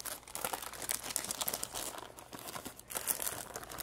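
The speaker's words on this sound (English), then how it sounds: "And it will peel off pretty easily if you use parchment paper" Parchment paper is peeled off the underside of a sponge cake layer for a Hungarian Somloi galuska trifle, giving close, continuous soft crinkling and tearing rustles in uneven bursts.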